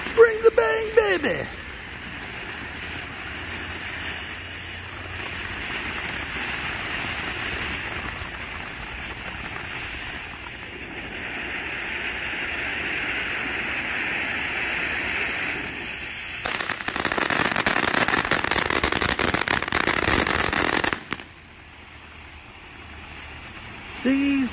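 TNT consumer fireworks set off from a launch pad, with long stretches of dense crackling and rapid popping bursts like a firecracker barrage, loud and continuous, with people talking in the background.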